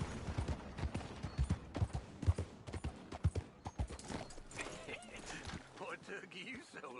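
Galloping horse hooves in a PS4 video game, a rapid, uneven clip-clop rhythm running under voices and game sounds, loud and close before easing off near the end.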